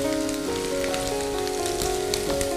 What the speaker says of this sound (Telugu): సో ఆల్రెడీ చూడండి అల్లము మంచిగా వేగింది కదా